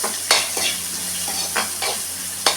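Chopped onions sizzle steadily in a hot pan, broken by several sharp scraping stirs of a utensil against the metal.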